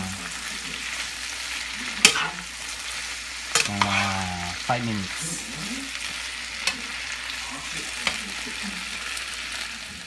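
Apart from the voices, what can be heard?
stirring tomato and pork in frying pan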